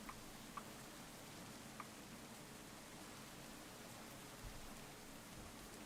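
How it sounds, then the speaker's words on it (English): Rain falling in the Minecraft video game, a steady soft hiss of broadband noise with a few faint ticks, quiet and unbroken throughout. "I'm not sure how loud the rain is for you on stream. It's kind of loud for me."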